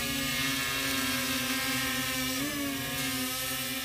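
TBS Discovery Pro drone with its original motors running, a steady whine of several tones that bends briefly in pitch partway through, steady in level throughout.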